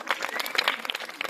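Audience clapping after a 2 October speech, a short burst of scattered hand claps in a hall, fairly close and moderately loud.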